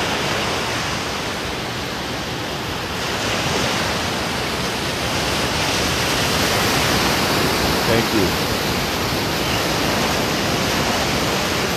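Ocean surf rolls in at the Santa Monica Pier beach, a loud, constant broadband wash of breaking waves, with someone briefly speaking over it.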